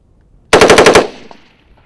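A short burst of about five rapid machine gun rounds fires on a Marine weapons familiarization range, loud and close, followed by a brief fading echo.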